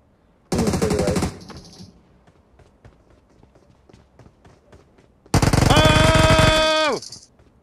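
Two loud bursts of rapid automatic gunfire in PUBG Mobile, the first short and the second a sustained volley lasting over a second, separated by quieter footsteps and ambient game sounds.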